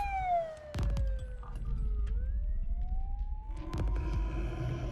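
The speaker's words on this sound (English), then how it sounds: "A police car drove across the wooded area." A police car siren wails through a wooded area in a horror animation, its tone sweeping down and rising again, loud and close, broken by a couple of sharp thumps.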